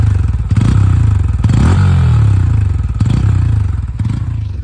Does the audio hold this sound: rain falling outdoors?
no